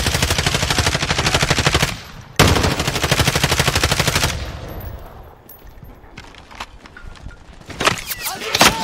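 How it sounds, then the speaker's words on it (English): Rapid automatic gunfire in the shooter Call of Duty: Warzone, two long loud bursts with a brief gap, then scattered quieter shots and clatter trailing off toward the end. "Shots coming at me."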